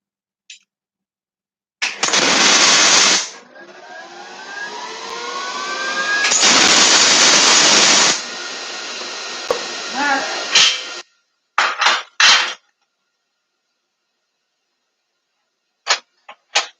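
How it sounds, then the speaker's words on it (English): A MIG welder lays tack welds on a bowl built from horseshoes, making several separate bursts of harsh, crackling hiss, a few seconds long at first and then short quick zaps, with near silence between them. "That's why we're going to tack first, take a look at everything, and then go ahead and weld."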